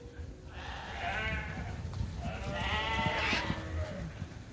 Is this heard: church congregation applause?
no